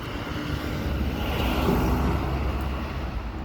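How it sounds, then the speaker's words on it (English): A jet airplane climbing out of LaGuardia Airport over Astoria, Queens, produces a continuous, moderately loud rumbling roar that swells slightly midway, heard alone with no talking. "those planes have to be coming out of LaGuardia"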